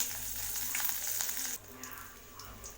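Mustard seeds crackling and popping in hot oil for a Tamil-style tempering, a dense close sizzle with sharp spits that thins out after a moment into lighter scattered crackles.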